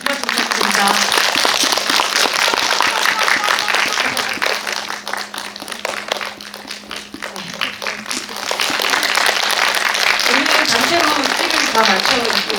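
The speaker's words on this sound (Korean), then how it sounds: "큰 박수 부탁드립니다." An audience at a family screening and talk for the Korean film Moving On applauds the director and cast with sustained, dense clapping that dips midway and then swells again, with voices faintly underneath.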